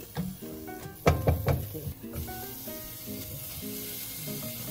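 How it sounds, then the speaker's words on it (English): Garlic and onions hit a little oil in a pan and sizzle steadily, with a few clattering knocks of utensils and cookware near the start, while someone talks over the frying. "I put just a little bit of oil, kasi yung beef, diba? Just a little bit. Just so I can saute the garlic and the onions."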